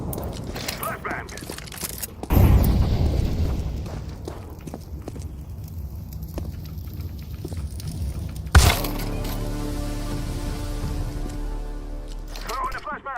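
A flashbang grenade goes off in Counter-Strike 2 with a sharp, loud bang, and a lingering high ringing tone follows it. Footsteps, other game noise and players talking run through the clip.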